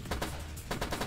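Gunfire in a video game: a quick series of sharp, loud shots in bursts, with a gap near the middle, over about a second and with no talking.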